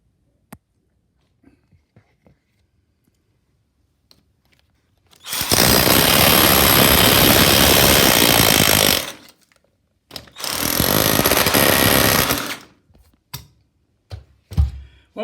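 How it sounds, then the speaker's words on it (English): A power drill or hammer drill chisels out part of a wall during a living room refurbishment, running in two long loud bursts separated by a pause, with scattered knocks and clatter before and after. "I started to drill and hammer out the next one"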